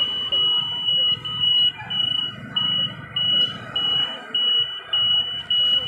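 A railway warning alarm at a level crossing in Bangladesh sounds as a train approaches, a high electronic tone in regular on-off pulses, loud and steady over low background rumble and faint voices.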